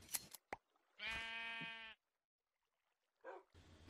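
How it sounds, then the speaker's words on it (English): A sheep in the video game Minecraft lets out a single clear, wavering bleat amid scattered game clicks and short bursts of noise. "Hey, look, it's a sheep."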